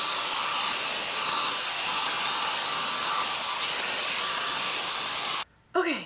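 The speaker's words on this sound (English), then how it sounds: "I'm gonna hit it with a blow dryer real quick" A hair dryer blows steadily and loudly on braids coated in blue hair paint, a continuous broadband whoosh that cuts off abruptly near the end.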